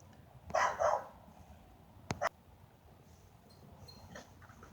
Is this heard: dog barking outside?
yes